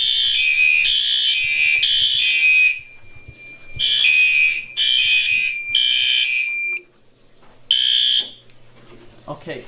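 A Firelite MS-10UD fire alarm system sounding during a test, loud repeated high-pitched electronic horn pulses in groups with brief gaps, close and piercing, with someone talking quietly in the pauses.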